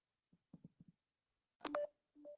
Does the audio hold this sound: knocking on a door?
no